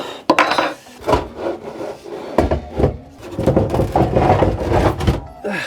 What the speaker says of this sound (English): I'm going to have to hand screw this in with that stubby little screwdriver